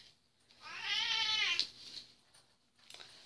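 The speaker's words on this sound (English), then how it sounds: "Cut it out, cats." Two house cats fighting, with a loud, drawn-out yowling caterwaul that breaks off, followed by fainter scuffling and softer cries nearby.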